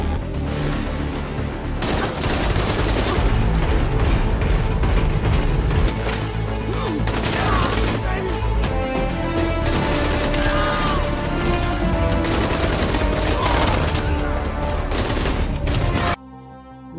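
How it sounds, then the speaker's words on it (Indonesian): Gunfight in a film: mercenaries and two fighters trading fire in a tunnel, loud dense bursts of gunfire with crashes and impacts, continuous for about sixteen seconds before cutting off abruptly. "John dan Maria kembali terlibat adu tembak untuk menghabisi tentara bayaran"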